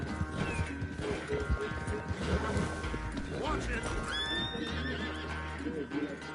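Horse in Red Dead Redemption 2 galloping with a steady clip-clop of hooves, then a loud, close neigh partway through, all under a dense mix of game ambience and someone talking.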